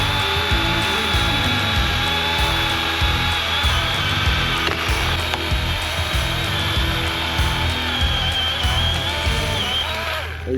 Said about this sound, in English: The lady wants to cut the tree down,